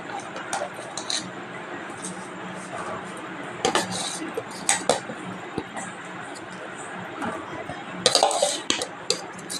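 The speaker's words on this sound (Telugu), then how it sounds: "ఇంకా ఈ పచ్చడిని దీనిలో వేసి కలుపుకుందాం" Gongura chutney made with dried red chillies being stirred into a dish with a spoon, giving soft squishing and scraping with occasional clinks against the vessel, under a faint background hum.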